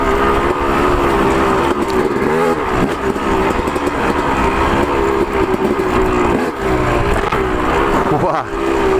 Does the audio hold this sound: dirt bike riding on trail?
yes